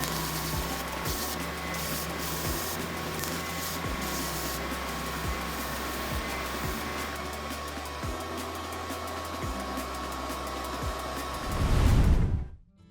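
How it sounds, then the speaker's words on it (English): A woodworking sander grinds steadily as it chamfers the top edges of exotic wood tea light holders to 45 degrees, a loud continuous whine with faint periodic thumps, then it winds down abruptly at the end. "Here I'm adjusting my sander to put a 45-degree chamfer on the top edges."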